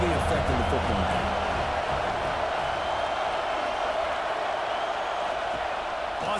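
A home crowd in the College Football 26 video game roars loudly and continuously, a dense sustained cheer filling the whole clip with no pause, while a commentator talks over it.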